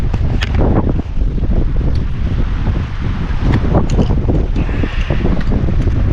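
Strong wind gusts roaring steadily across an outdoor microphone near the sea, with loud continuous buffeting and rustling throughout.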